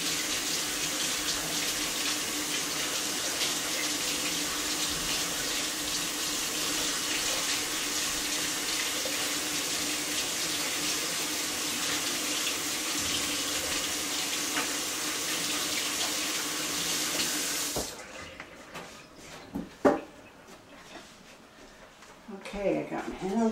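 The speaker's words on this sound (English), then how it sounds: "I just need to wash my hands." Water runs steadily from a kitchen tap for hand washing, a constant loud splashing stream that stops abruptly near the end, followed by a few clinks and soft handling noises.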